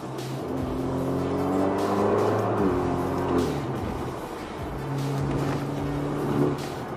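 An Alfa Romeo Giulia with its muffler and resonator deleted drives by, a loud droning exhaust with rising and falling engine tones as it accelerates, eases off, then pulls again.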